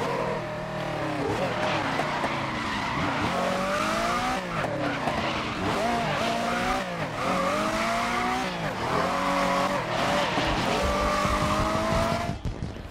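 A Group 7 race car in the racing game GRID slides sideways, its engine roaring steadily under repeated wavering tire squeals and skids, loud and continuous throughout.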